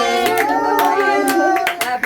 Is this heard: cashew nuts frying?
no